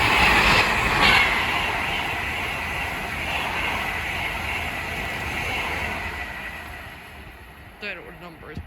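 An Avanti West Coast Class 390 Pendolino electric train running from London Euston to Manchester Piccadilly on the West Coast Main Line at Lichfield Trent Valley gives a steady, loud rushing roar that fades near the end.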